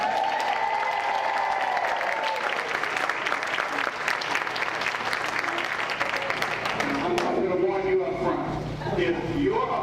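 An audience claps steadily for Kid for several seconds, a broad wash of applause with a speaker's voice coming in over it near the end.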